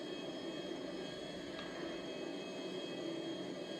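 A Boeing 747 airliner cruises in GTA between Los Santos and Sandy Shores, a steady, even jet engine roar holding without a break, with no talk over it.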